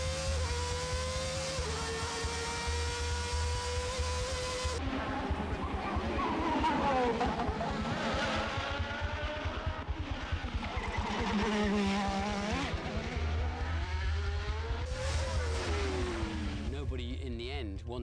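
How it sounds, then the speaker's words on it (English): A day-glo McLaren Formula 1 car driven by Ayrton Senna laps Monaco in 1988, its high engine whine rising and falling through gear changes and passes, running steadily beneath continuous talk. "when you saw the day-glow McLaren and the very bright helmet of Ayrton Senna, he would come through and we literally jumped out of the way"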